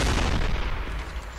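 A single heavy gunshot from the video game Damnation, a loud close boom that fades into a rumbling decay.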